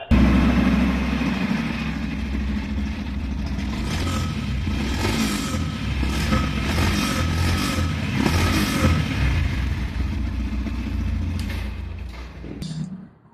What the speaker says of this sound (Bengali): তো এখন আমরা বাইকের ইঞ্জিন সাউন্ডটা আপনাদেরকে শোনাবো।